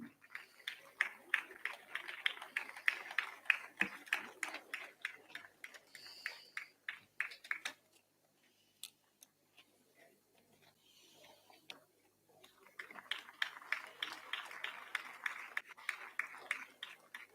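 Faint, distant clapping from a college annual day audience after the final medal: sharp scattered claps in an uneven patter, pausing for several seconds and then resuming just as quietly.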